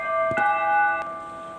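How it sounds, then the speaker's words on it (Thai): A bell rings with a few clear strikes and lingering metallic tones over steady low background noise, with no voices. "ผมตกใจเสียงระฆังครับพี่ๆ"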